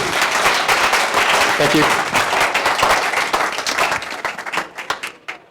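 Audience at a tech design talk claps warmly to welcome a speaker, a loud, close burst of many hands that thins and tapers into scattered claps at the end, with a brief spoken thanks partway through.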